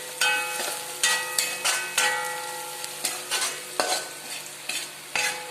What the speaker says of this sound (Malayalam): മഞ്ഞപ്പൊടി ഇട്ട് കൊടുത്ത് ഇതൊന്ന് ഇളക്കി